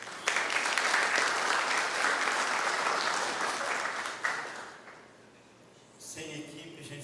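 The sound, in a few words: audience applause for a helper at a seminar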